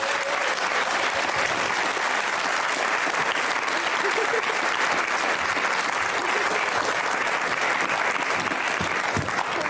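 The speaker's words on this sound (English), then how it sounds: "Got to give her a massive round of applause." Studio audience on the Jeremy Kyle Show breaks into a sustained, dense round of applause, steady and loud throughout, with a few cheers and voices mixed into the crowd.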